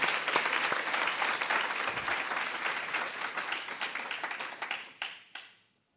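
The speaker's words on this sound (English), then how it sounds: "let's give the rest of Youth Connect staff a round of applause for the wonderful work they've done" An awards-ceremony audience applauds youth organisation staff with dense, sustained clapping that fills the room, then thins to a few scattered claps and fades out near the end.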